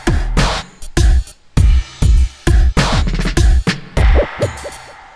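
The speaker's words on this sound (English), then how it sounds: "a drum loop that I took from the machine drum selection in Contact 5" Drum loop taken from the Machine Drum selection in Kontakt 5, with punchy kicks and snappy hits in a choppy, gated rhythm, loud and alone with short gaps between bursts.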